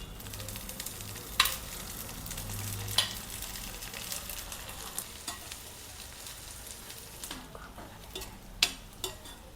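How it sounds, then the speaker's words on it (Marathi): A large chopped onion sizzles in about two spoons of hot oil for a mandeli masala, a dense continuous frying hiss broken by occasional stirring clicks. "आता भाजून घेऊ। कांदा टाकून घेऊ आधी।"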